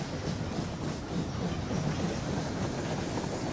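A train rides along the track in the Rolling Line VR model railway game, giving a steady, loud rumbling roll with faint clickety-clack and no talk.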